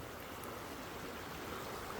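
A stream flowing fast enough to erode and open up its bank outdoors on a nice day, heard as a steady, even rush of broadband water noise with no talking.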